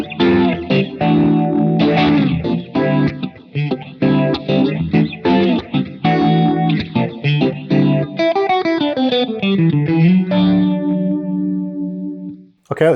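Electric guitar played through a JHS 3 Series analog-style phaser pedal: chords and single-note lines with a warm, sweeping, swirling modulation, loud and close, ending on a sustained chord, without talking.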